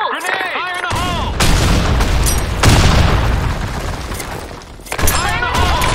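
A grenade explodes in the online shooter Blackshot, with heavy booming blasts and bursts of gunfire, interspersed with short synthetic voice-like sweeps at the start and end.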